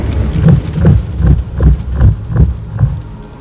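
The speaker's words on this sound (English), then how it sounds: "That thump thump thump is described in the book as being like a heartbeat" The sandworm in Dune Prophecy gives off deep, heartbeat-like thumping, a loud steady series of about eight low thuds spaced roughly every 0.4 seconds beneath a rumbling background, with no talk.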